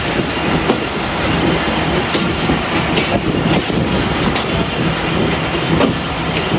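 The Baba Fareed Express passenger train runs on a Pakistani branch line, a loud, continuous rumble of wheels on rails with rattling carriages and faint clickety-clack, heard up close.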